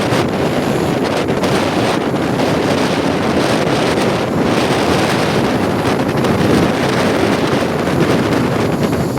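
Strong gusting wind, about 51, with five-foot waves around a boat at sea, a loud continuous roar of wind buffeting the microphone and surging water throughout.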